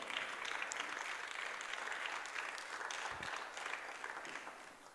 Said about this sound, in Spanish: ¿Cuántos pueden darle un aplauso al Señor en esta tarde?